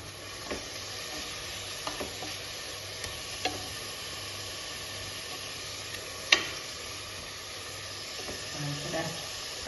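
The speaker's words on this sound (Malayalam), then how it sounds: "രണ്ട് തക്കാളി കട്ട് ചെയ്ത് ഇട്ട് കൊടുക്കാം ഇപ്പം എല്ലാം കൂടിയിട്ടത് നല്ലോണം ഒന്ന് മിക്സ് ചെയ്ത് ഒന്ന് വാട്ടിയെടുക്കാം" Tomatoes and masala being stirred and sautéed in a pan for Kerala-style prawn rice, with a soft steady sizzle and occasional spoon scrapes and clicks, fairly quiet and close.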